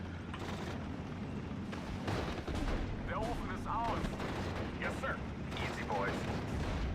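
A PIAT anti-tank weapon fires in the video game Steel Division: Normandy 44, set within a loud, continuous battle soundscape of gunfire, artillery rumble and mechanical clatter that persists throughout.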